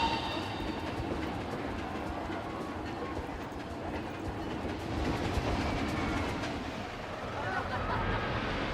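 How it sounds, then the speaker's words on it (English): A park train in Planet Coaster 2 rumbles along its track with a faint clickety-clack amid tropical bird calls and ambient park noise, moderately distant and steady. "And we got the train, but we haven't really built any actual stations for it"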